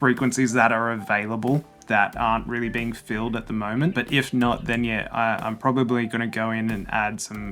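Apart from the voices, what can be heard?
No everyday noises stand out.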